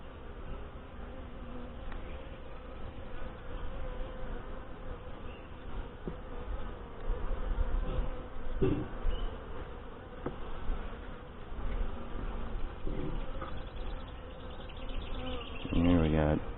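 Saskatraz honey bees buzz steadily at an open hive in northwest Wisconsin, a dense continuous hum close by with small rises and swells and no talk over it.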